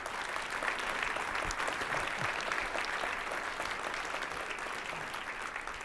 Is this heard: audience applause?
yes